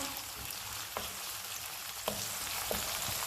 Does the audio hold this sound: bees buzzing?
no